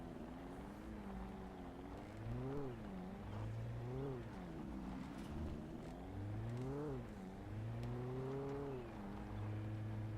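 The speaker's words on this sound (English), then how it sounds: "Much worse sounding car." A car engine in the video game Alan Wake, revving up and down in repeated swells, a steady moderately loud drone with rising and falling pitch throughout, no talk over it.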